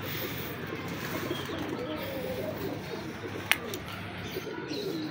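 Pigeons coo softly outdoors, faint and steady against a constant background hiss, with one brief sharp click partway through.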